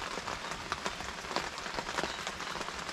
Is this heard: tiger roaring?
no